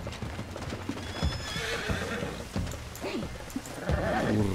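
Horse hooves clip-clopping with loud neighs and whinnies in the western video game Red Dead Redemption 2, close and clear, with quiet talk underneath.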